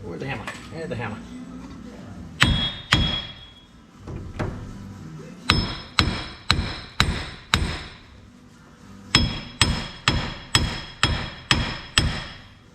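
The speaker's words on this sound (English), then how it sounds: "where's the hammer? Here's the hammer." Sharp metallic hammer blows strike a worn wheel bearing on a 2004 Ford Ranger 4x4, with about fifteen loud, ringing hits in quick clusters. Some talk and handling noise come first.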